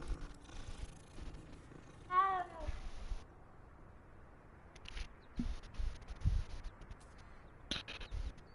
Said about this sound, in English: Oh my gosh, a kitty.